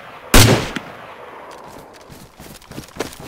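One loud, close gunshot cracks out in DayZ, followed by fainter, more distant scattered shots as the echo and ambient outdoor noise carry on.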